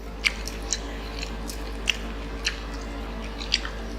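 Crispy garlic honey butter Korean fried chicken is chewed close up, with a series of sharp crunchy bites spaced irregularly over soft mastication sounds and no talking.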